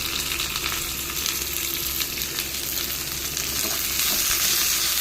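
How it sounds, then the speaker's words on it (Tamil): Onions sauté in a spoonful of oil with mustard seeds and curry leaves, giving a steady, close, dense crackling sizzle that holds evenly throughout. "வெங்காயத்தை ஒரு வதக்கு வதக்கிட்டு"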